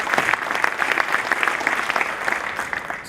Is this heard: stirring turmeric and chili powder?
no